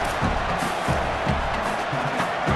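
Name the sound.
home crowd cheering in EA Sports College Football video game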